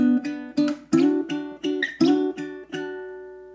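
Baritone ukulele playing a two-bar riff, with about nine sharply plucked chords in a steady, driving rhythm, each ringing briefly before the next, played alone and close.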